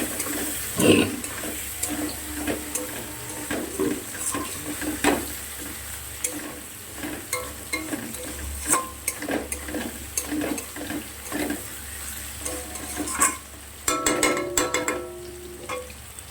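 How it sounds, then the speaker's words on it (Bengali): Spices and turmeric being sautéed in a pan for a katla fish curry with potatoes and onions, a moderate sizzle broken by uneven scrapes and knocks of a stirring spoon, busier near the end. "আরও বেশ কিছু সময় কষিয়ে নেব।"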